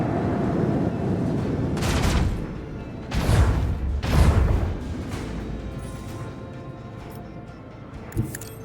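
Ship cannon salvos in the Warhammer 40k Rogue Trader video game boom in two heavy, close blasts with rumbling tails over a steady engine drone, followed by a fainter single shot near the end.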